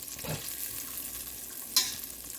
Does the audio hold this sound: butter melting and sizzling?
yes